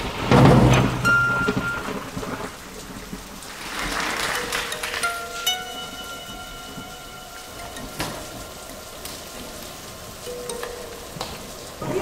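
A rainstorm with rolling thunder: steady rain patters throughout, with a loud thunder crack at the start and a deeper rumble swelling midway, plus a few faint tonal hums in the background.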